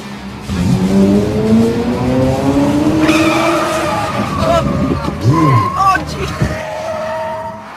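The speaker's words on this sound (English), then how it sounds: "a bump in the road made her skid" A car skids after hitting a bump in the road, its tires squealing in rising and falling sweeps over a steady engine drone, loud and close, with a voice also audible.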